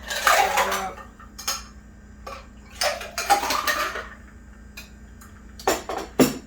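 A Tequila Sunrise is shaken in a cocktail shaker, with ice rattling and clattering in several bursts of rhythmic shaking, separated by short pauses, close and fairly loud.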